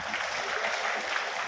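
Seminar audience applauding a speaker, Kang Rijal, a steady wash of many hands clapping that fills the short moment evenly, no voices standing out.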